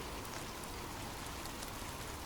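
Steady soft rainfall, a continuous even hiss of drops on a surface with no breaks, faint and calm throughout.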